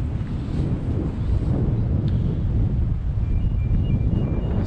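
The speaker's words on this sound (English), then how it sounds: "God, it's windy" Strong wind buffets the microphone at an old colliery railway site in Nottinghamshire, a steady loud low rumble with gusty roar throughout, no one talking.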